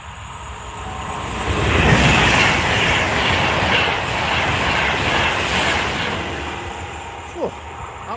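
A Pendolino train passes at speed on the West Coast Main Line, a loud rushing roar of wheels and air that swells, holds for several seconds and then eases off, close by.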